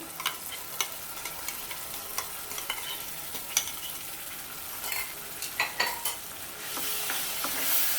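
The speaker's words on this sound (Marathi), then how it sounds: "आता मस्त टॉमॅटोला वगैरे ह्या तेल सुटेपर्यंत आपल्याला परतून घ्यायचं आहे" Tomato and cashew paste sautéing in hot oil in a pan, with a steady soft sizzle and repeated scraping stirs of a spoon, close and fairly quiet; frying grows stronger toward the end.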